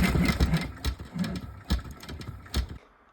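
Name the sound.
embroidery machine stitching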